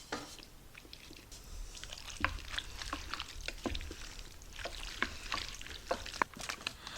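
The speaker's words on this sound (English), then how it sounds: "let's go ahead and give this a mix" Chili mac ingredients with salt being stirred in a crockpot: soft scraping and wet clicks of a spoon through the mixture, with scattered small knocks against the pot, close and moderately quiet.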